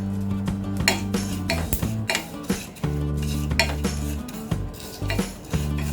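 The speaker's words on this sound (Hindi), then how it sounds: "हमारा ये तिल और बाकी सारे इंग्रेडिएंट्स फ्राई हो गए" Sesame seeds and poppy seeds fry over a low flame in a pan, with a spatula clinking and scraping against the metal in a steady, repeated clatter throughout.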